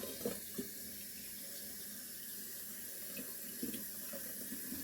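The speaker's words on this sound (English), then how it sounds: "Looks like I might need a little more water in this jar." Tap water runs steadily into a jar, a continuous soft splashing stream with a few faint clinks and bumps, heard close up and alone.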